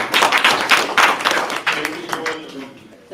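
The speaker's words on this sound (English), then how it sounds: "give another round of applause to the panelists" Applause from an audience thanking conference panelists at the close of a session on drugs and social networks, with bursts of clapping that thin out over about three seconds, while voices murmur underneath.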